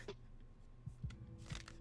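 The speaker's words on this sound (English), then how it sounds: "How do you do the shuffling with like that?" Playing cards shuffled by hand at home, a few quiet, soft riffling bursts and light slaps spaced out over a couple of seconds in an otherwise hushed room.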